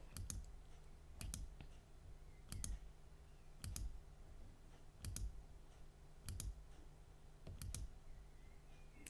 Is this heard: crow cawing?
no